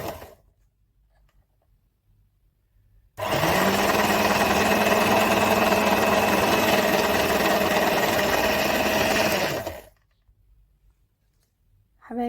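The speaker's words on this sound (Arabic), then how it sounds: "هنضرب المكونات مع بعض." An electric mixer whirs steadily through cupcake batter of flour and baking powder, a loud continuous buzz lasting about seven seconds that starts and stops abruptly, with quiet gaps on either side.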